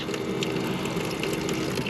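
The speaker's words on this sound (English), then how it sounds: "I could pump in that, so we've got running water, that's great." A hand pump sends running water into a bucket basin inside a campervan conversion, a steady close gushing pour lasting a couple of seconds.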